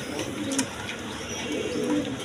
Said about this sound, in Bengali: এখানে এক পেয়ার মসলদম কবুতর আছে